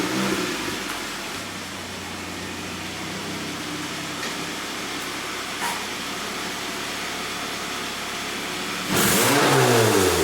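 A Toyota MR-2 Spyder with a turbocharged 2ZZ engine warms up, idling steadily with a few throttle blips, then revs up louder near the end, close by.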